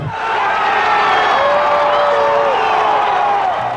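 A sellout crowd of Devil Rays baseball fans roars and cheers as the team takes the field, a loud, sustained wash of voices and whoops from start to finish.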